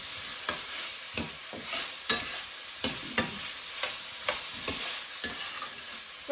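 Onions turning translucent in a hot pan, stirred with regular scraping strokes roughly every half second over a continuous sizzle, close and clear with no talking.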